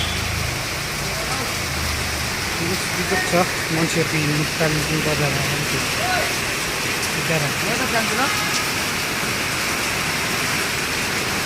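Heavy rain pours steadily in Kalimpong bazaar, a dense continuous hiss of water on surfaces close around, with someone talking over it throughout.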